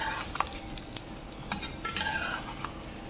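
Samosas fry in a pan for an Iftar meal, giving a steady low sizzle with scattered light clinks and scrapes of a utensil against the pan.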